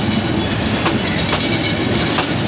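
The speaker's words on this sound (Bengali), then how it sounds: "এসি সিস্টেম একটি ট্রেন, নতুন ট্রেন শহরে প্রবেশ করেছে।" A new air-conditioned train rolls past on rails as it enters a city in Bangladesh. It makes a steady, loud rumble with a rhythmic clickety-clack throughout and no voices.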